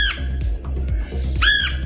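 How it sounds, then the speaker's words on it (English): A red-headed woodpecker gives harsh, squawking calls, a short rasping note at the start and a louder, arched squawk near the end, close and clear over faint background noise. "the red-headed woodpecker."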